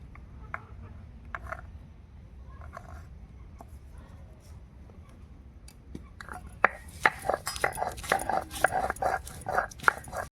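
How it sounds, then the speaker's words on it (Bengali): Ginger and garlic ground into paste on a grinding stone: a low steady rumble of rubbing gives way to a busier run of rhythmic scraping and knocking strokes, close and fairly loud. "এবার আদা রসুন বেটে নেব"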